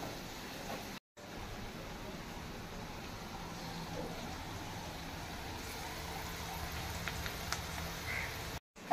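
Heavy rain falls steadily outdoors, a continuous broadband hiss that persists through the whole stretch, with a few faint distant crow caws over it.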